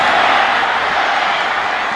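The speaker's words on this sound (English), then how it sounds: "You heard the crowd roar here at Doak Campbell" A large stadium crowd roars and cheers at Doak Campbell Stadium during a college football game between NC State and Florida State, a dense, steady wall of noise filling the whole two seconds.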